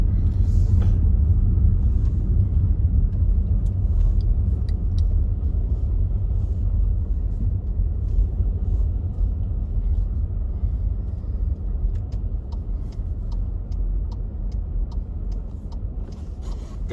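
Road traffic rolls through a cold Canadian city, a continuous low rumble of passing cars and engines, loud and steady across the whole stretch with no talk.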